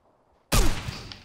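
A single sharp, loud crack of gunfire in PUBG breaks out of near silence and then decays into a rattling echo with a smaller follow-up burst.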